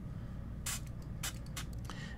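Short hiss bursts of a handheld spray bottle misting water onto fingertips while installing a screen protector on a Samsung Galaxy Z Fold 3, about four puffs in quick succession over a low steady hum.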